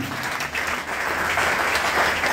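A church congregation claps together in steady, sustained applause that stays fairly loud and even throughout, with no voices rising above it.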